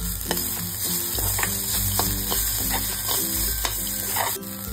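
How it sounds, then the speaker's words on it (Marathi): Dried bombil fish thecha stir-frying in oil makes a loud close sizzle, broken by repeated scraping and clacking of a spatula against the pan as it is stirred, with no talking. "अगदी छान थोडंसं तेल सुटेपर्यंत हा ठेचा आपण परतून घेऊयात।"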